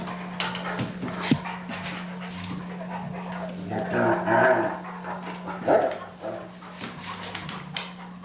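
A Malinois puppy plays with another dog, panting, whimpering and letting out a few sharp barks amid scuffling, near and moderately loud over a steady low hum.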